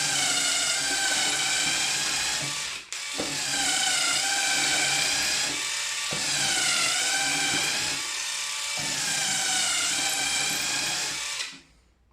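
DeWalt DCF887 cordless impact driver boring down into a roughly 2 cm thick piece of wood, a loud sustained whining drive in long runs with one brief break near the start and a stop at the end, no talking.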